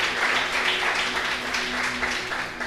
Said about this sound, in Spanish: ¿Cuántos alaban a Dios con un fuerte aplauso,